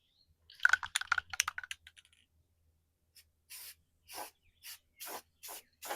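Rust-Oleum Satin Vintage Teal spray paint hisses out of the can in about six short, even bursts, each close and clear, after some earlier clicking and rattling.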